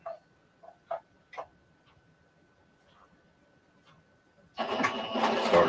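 After a few scattered taps and clicks, a sewing machine starts up and runs steadily, a close, dense mechanical whir of stitching that carries to the end.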